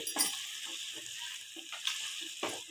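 Pepper mutton frying in a pan, a steady hiss of sizzling oil with soft scraping of a spoon stirring at intervals, close and fairly quiet.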